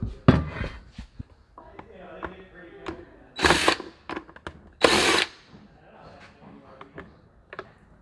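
A power drill backs two screws out of a Burromax mini bike while the speed controller is being changed, giving short bursts of whirring, the loudest two near the middle, between quieter clicks and handling noise.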